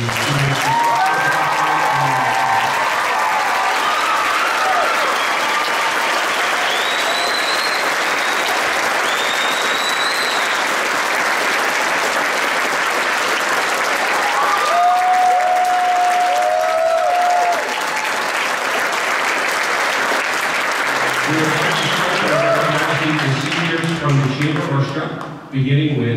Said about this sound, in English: can we have a huge round of applause for the class of 2023?